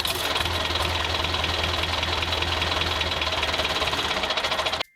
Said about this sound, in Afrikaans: Dit is 'n trekker wat so bietjie sukkel om aan die gang te kom.